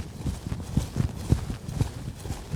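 A horse lopes in an arena, its hooves landing in a quick, regular three-beat rhythm of dull thuds, close and moderately loud, with no talk.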